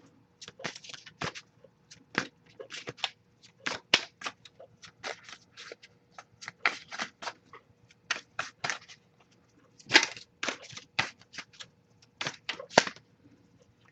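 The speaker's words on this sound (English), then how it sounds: "So I'll shuffle a bit more, see if we get any from you to them." Tarot card deck being shuffled by hand during a love reading, a steady run of crisp papery riffles and snaps close up, with short pauses between bursts and no talking.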